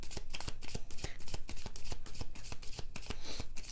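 Crystal Visions Tarot cards shuffled by hand in a steady run of rapid riffling slaps and soft flutters, close and fairly loud, with no talking throughout.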